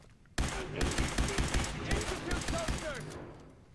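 Rapid gunfire in the video game Fallout 4, a sudden burst of repeated shots fired in quick succession, loud and close, continuing for a few seconds over background game sounds.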